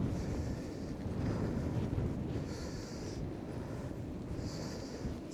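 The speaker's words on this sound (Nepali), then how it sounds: "ओ चिसो हावा के साह्रो चिसो हावा यार" Cold wind buffets the microphone outdoors during cricket practice, a steady loud low rumble with gusty swells and no voices.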